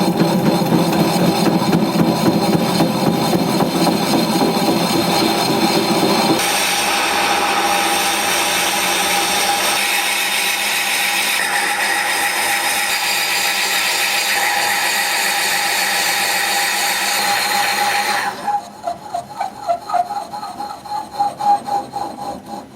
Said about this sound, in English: I've installed a 2-inch Forstner bit. We're going to be turning the lathe at about